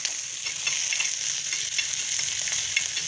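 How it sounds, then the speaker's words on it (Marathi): Green chillies and peanuts fry in oil in a pan, giving a steady, close hiss and sizzle with faint stirring scrapes running throughout and no voices. "तेलामुळे अजून छान मिरच्या भाजल्या जातात आणि शेंगदाणे पण त्याबरोबर तेलाबरोबर तळले जातात"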